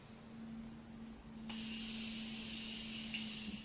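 A steady, airy hiss of a Morphe Continuous Setting Mist spray starts abruptly and continues for a couple of seconds, close by, over a faint background hum.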